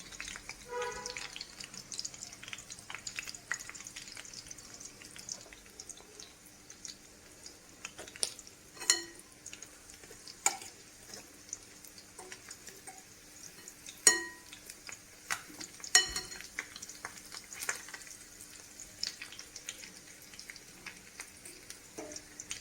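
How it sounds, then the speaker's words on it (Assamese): Small fish and potato pakoras fry in oil, with a soft, steady sizzle under sharp clinks and scrapes of a utensil against the pan at irregular intervals, with no voices. "ৰঙচুৱাকৈ দুইটা ছাইড ভাজিব"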